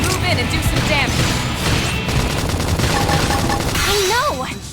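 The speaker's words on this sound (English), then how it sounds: "Try toppling it with gunfire!" Gunfire in the Xenoblade Chronicles X video game, a dense barrage of shots and impacts running the whole time, loud and busy under game music and voice effects.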